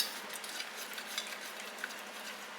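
Sugar syrup for homemade popcorn balls is stirred in a pot on a stovetop over medium heat: a soft, steady hiss with light scraping and faint clicks of the spoon, with no talking.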